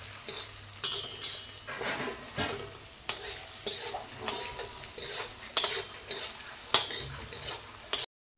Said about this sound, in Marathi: आता कांद्याला चांगलं हलवून घेऊयात पिवळा होईपर्यंत